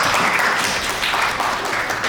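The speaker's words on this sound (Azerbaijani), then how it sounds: "Alqışlayaq." An audience at a community social-support event in Zaqatala, Azerbaijan, breaks into dense, steady applause, close and loud for the whole short stretch.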